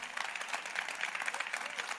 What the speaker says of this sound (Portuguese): Queridos, forte aplauso.